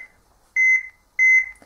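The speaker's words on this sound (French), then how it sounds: "vous entendez bien le bip bip qui signale notre pulsation cardiaque" Two distinct electronic beeps from a heart rate monitoring app, each marking a detected pulse, sound clearly and evenly spaced in otherwise quiet surroundings.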